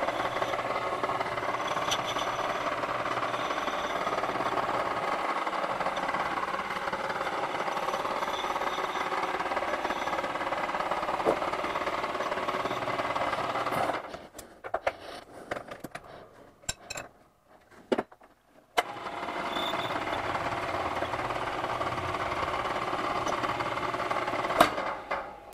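A lathe freehand turning a copper knob mounted on a mandrel, a steady gritty whirring chatter that drops away midway into quiet scrapes and clicks, then resumes.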